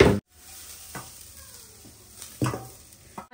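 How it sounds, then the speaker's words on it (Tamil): Onion and carrot sautéing in a pan give a soft sizzle under a few sharp scrapes and clatters of a spoon stirring against the pan. "கேரட்டும் போட்டு வதக்கிறேன் ஃப்ரெண்ட்ஸ்"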